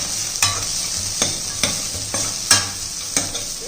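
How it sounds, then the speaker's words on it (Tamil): Chopped beans and carrot sautéing in a pan over medium heat, a steady sizzle punctuated by regular scrapes and knocks of the stirring spoon, close and clear with no talking. "இது எல்லாத்தையும் ஒரு வதக்கிடுவோம்."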